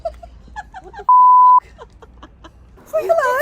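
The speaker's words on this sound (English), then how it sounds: "I had to find a beep button for my channel because everybody was swearing at me." A single steady electronic censor beep lasting about half a second blots out a swear word in the middle of close, lively chatter and laughter.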